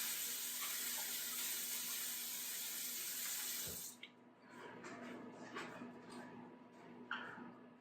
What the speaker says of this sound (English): So, one more rinse on it just to be sure there's any wax left and to get the Goo Gone off of it